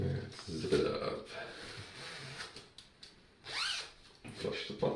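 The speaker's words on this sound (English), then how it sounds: "Let's zip it up." A zipper is pulled closed at close range, a quick rasping zip standing out over quiet room noise, with a few other soft handling rustles around it.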